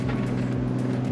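A car drives on soft beach sand in a national park, its engine a steady close droning rumble with slight rhythmic surges as the wheels churn.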